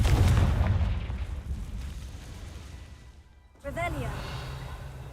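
A Confringo fire spell explodes in the Hogwarts Legacy video game with a loud, booming burst that fades over a few seconds. A brief silence follows, then a voice speaks.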